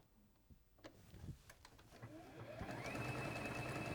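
A sewing machine runs a reinforced triple stitch, starting with a few scattered clicks and then settling into a steady, rising mechanical whir close by, with no talking.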